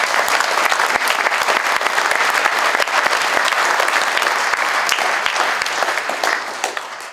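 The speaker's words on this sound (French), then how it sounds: "Tu mérites vraiment les applaudissements de la population." Loud, continuous applause fills a town hall during a 2017 New Year address at the Peymeinade mayor's office, with crisp individual claps standing out from the crowd and easing slightly near the end.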